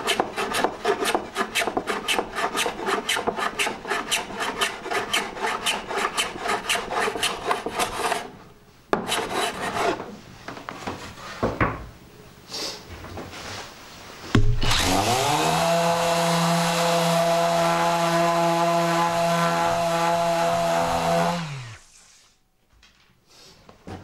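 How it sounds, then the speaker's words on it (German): A solid-wood repair is planed flush and then sanded: a long stretch of fast rhythmic rasping strokes, a short pause with scattered scrapes, then a loud steady machine whir that runs for several seconds and winds down, all close and without talking. "wird es dann einfach plan gehobelt und dann wieder drüber geschliffen"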